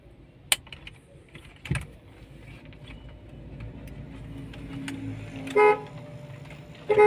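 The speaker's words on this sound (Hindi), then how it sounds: "देख सकते हैं फ्रेंड हमारा हॉर्न भी बज रहा है," A Toyota Innova's horn sounds in a workshop during steering wheel and airbag fitting, giving two short separate toots, the second cut off at the end, amid faint clicks and quiet background noise.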